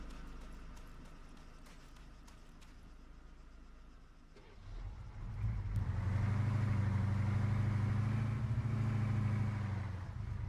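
Military vehicle engine in Arma driving off-road, quiet at first with light knocks, then revving up into a loud, rough, sustained engine roar that holds steady before easing slightly.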